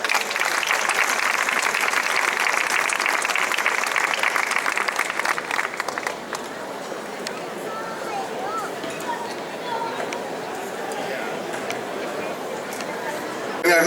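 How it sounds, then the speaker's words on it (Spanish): Audience applause at an evening lecture on the history of the Plaza Mayor in Tembleque, loud dense clapping for the first six seconds, then thinning to scattered claps and murmuring crowd chatter. "Un fuerte aplauso para él"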